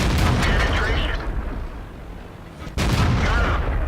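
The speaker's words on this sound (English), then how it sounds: "T29 shot his track off." Tank cannon fire in World of Tanks from a T29 heavy tank: loud booming shots open and close the stretch, with a quieter rumble of battle noise between them and no voices.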